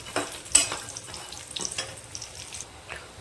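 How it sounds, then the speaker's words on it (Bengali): Bengali lentil dumplings (bori) frying in oil until reddish, a close crackling sizzle punctuated by sharp stirring clinks and scrapes at irregular intervals, with no talking. "বড়িগুলো আমার লাল লাল করে ভাজা হয়ে গিয়েছে"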